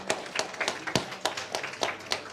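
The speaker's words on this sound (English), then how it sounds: "An applause for all of them." Sparse clapping at an Othello world championship prize ceremony in Belgium, a handful of distinct claps landing irregularly about every quarter second, close and fairly crisp, with no crowd swell behind them.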